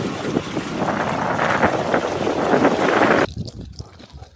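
The yacht Relaks approaches across choppy water on Lake Solina, heard as a steady rush of wind buffeting the microphone along with water noise, which cuts off abruptly near the end, leaving a quieter tail.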